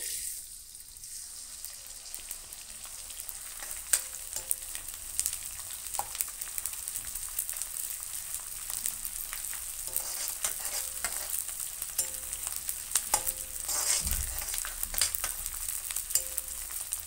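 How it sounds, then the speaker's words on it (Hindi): Edible gum (gond) frying in hot oil for atta panjiri, a steady close sizzle with scattered crackles and light stirring clicks throughout, no voices. "सारा गोंद इसमें डाल देंगे और फ्राई करेंगे"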